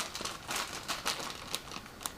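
A plastic bag of screws crinkles and rustles close up inside a PC case box, a steady stream of small crackles and snaps, with no voices.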